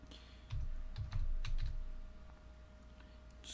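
Someone types on a computer keyboard in a quiet room: a short burst of soft, close key taps that thins into a few scattered clicks.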